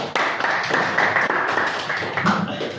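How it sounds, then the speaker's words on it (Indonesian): Audience clapping at a school session on positive culture, a dense steady patter of many hands filling the room for nearly three seconds, with a faint voice briefly underneath. "tepuk tangan buat Edra"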